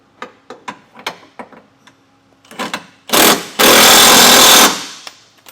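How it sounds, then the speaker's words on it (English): A power tool drives a 19mm socket to tighten body mount bolts while nerf bars are fitted to a 2023 Chevrolet truck. Scattered light taps and clicks come first, then two loud, sustained close bursts of tool whirring. "Now we're going to come back with a 19mm socket and tighten these down."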